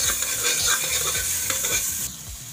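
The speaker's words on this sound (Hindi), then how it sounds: "फिर से चला देते हैं।" A spatula stirs sour-sweet raw mango curry after salt and turmeric go in, with close scraping strokes over a continuous frying sizzle that drops off abruptly near the end.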